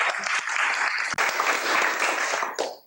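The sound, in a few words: audience applause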